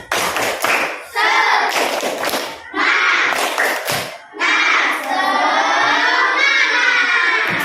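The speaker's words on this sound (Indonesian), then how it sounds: "Coba sebelum dimulai presentasinya kita tepuk semangat dulu ya." A class of fourth-grade children chants the "tepuk semangat" clapping routine together in a classroom. Loud unison voices come in several bursts, with claps and thumps underneath.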